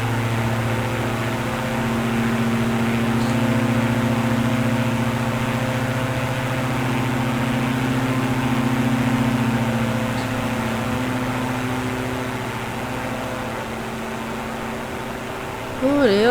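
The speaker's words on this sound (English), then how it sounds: "I'm about to descend. I'm going to slow the engine down." In Microsoft Flight Simulator 2024, an aircraft engine drones loudly and continuously as it is throttled back for descent, a steady humming tone that eases slightly in pitch, with faint talk at the very end.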